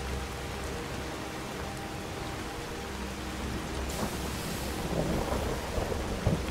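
Video game rain pours steadily with a low rolling thunder rumble beneath it, the downpour thickening into heavier pattering toward the end, with no voices.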